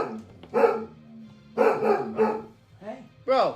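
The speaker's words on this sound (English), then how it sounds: "That's probably what he's barking at." A dog barks at a light outside, giving several loud, close barks in bursts, with people talking over and between them.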